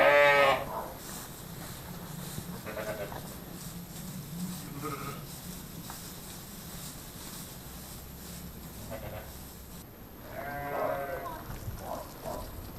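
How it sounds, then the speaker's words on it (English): Sheep bleat on and off over a steady outdoor background on a small Welsh farm at lambing time, a few calls rising clearly from the flock, with a person talking briefly. "Come on, sheep."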